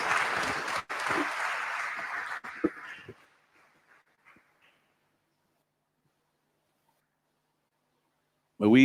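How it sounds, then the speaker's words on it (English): A crowd claps loudly for a few seconds, the applause fading out to near silence before a brief new sound at the very end. "Another round of applause for the Amazing Amazons"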